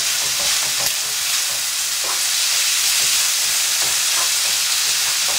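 Paella rice frying in a pan, a dense steady sizzle with faint scraping from occasional stirring, close and continuous without talk.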